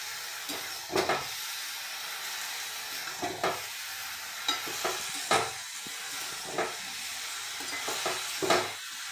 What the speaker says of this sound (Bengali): অল্প দিলাম এরপর বারবার নাড়তে হবে